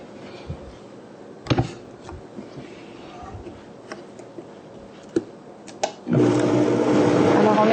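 A blender starts up near the end and runs loud and steady for the last couple of seconds, mixing a frozen preparation. Before it starts there are scattered clicks and knocks as the container is closed.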